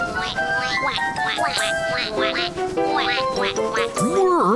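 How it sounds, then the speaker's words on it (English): Noisy baby ducks quack over and over in an animated cartoon, a fast cluster of bright, nasal calls that overlap throughout, with cartoon music or sound effects running underneath. "Listen to those noisy baby ducks."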